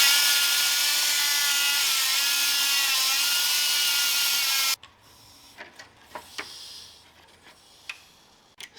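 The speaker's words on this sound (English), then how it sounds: "I'm going to take my cutoff wheel and go right here next to the side of it, being careful not to hit the threads" A cutoff wheel grinds steadily beside a nut on a Datsun 620 badge for several seconds, loud and continuous, then stops abruptly, leaving faint clicks and rubbing of handling.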